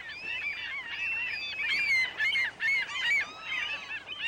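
Gull calling repeatedly on an Irish bog, a small but aggressive species giving loud, harsh honking cries in close, overlapping bursts with no talk.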